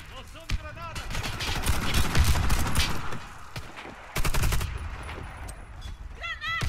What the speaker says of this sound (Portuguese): Vamos dar um tiro de Python? Vamos. Meter Python aqui.